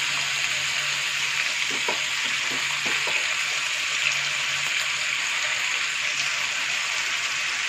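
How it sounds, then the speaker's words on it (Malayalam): Onions fry in a pan for chicken biryani, giving a close, continuous sizzling hiss with a few soft stirring knocks in the middle. "നമ്മൾ ആ സമയം കൊണ്ട് സവാള ഫ്രൈ ചെയ്ത് വെക്കുന്നുണ്ട്."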